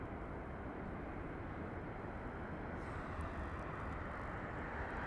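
A Boeing 737 jet at Las Vegas Harry Reid International Airport gives a steady, broad engine roar that holds loud and even throughout, without a break.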